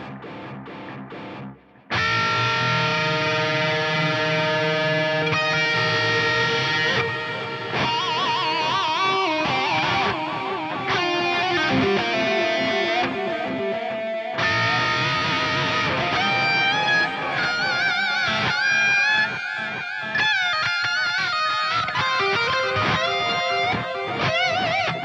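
A distorted electric guitar plays through a BOSS DD-200 delay pedal set to drum mode with all four heads engaged, stacking gritty repeating echoes into a thick, sustained wash after a brief quieter start.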